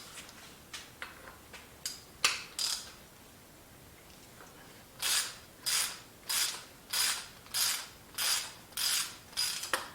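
Socket wrench ratcheting to remove the air cap on a RockShox bicycle fork. Sharp close clicks come first in a loose run, then a short pause, then a regular series of about eight quick ratchet bursts, with no talk.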